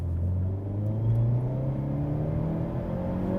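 A 2024 Hyundai Elantra N in Rally drive mode revs its engine with a low, droning rumble that rises slightly in pitch, steady and close from the cabin.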